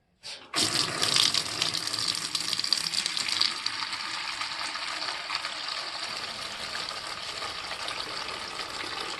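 Water flushing from a pressurized heating radiator line, around 2.7 bar, into a bucket: after a brief sputter, a strong, steady gushing rush starts and continues unbroken, close and loud.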